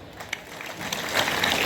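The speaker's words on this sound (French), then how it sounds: "Applaudissons encore ces collègues" Applause from an audience at a ceremony where Lieutenant-General JP Kabwik hands over 1,000 school desks, starting as scattered claps and swelling into steady, dense clapping that holds through the end.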